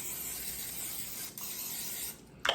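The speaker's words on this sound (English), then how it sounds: "it says spray this down. You can use some off-brand like pan spray." A continuous hissing spray from an aerosol can of cooking pan spray, with a short pause midway and a small clatter near the end.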